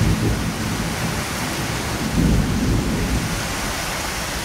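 Thunder from a lightning strike during a rainstorm rumbles low and heavy, rolling in two swells over a steady hiss of falling rain.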